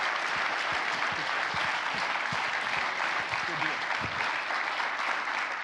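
Sustained audience applause at a World War II history conference, honoring panelists Marcus Cox and Matt Delmont, a steady wash of clapping from a large room without pause.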